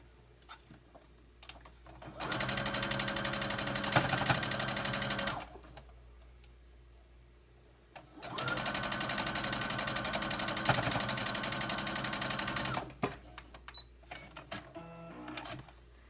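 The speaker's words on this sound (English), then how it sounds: "Line it up pretty good, and we'll sew down that one." A sewing machine runs in two sustained bursts of rapid, even stitching while a quilt block seam is sewn, with a quiet pause between and a few small handling clicks afterward.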